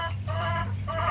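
A kampung rooster on a smallholding avocado orchard gives short, harmonic clucks, two or three quick calls close by, over a low steady background hum.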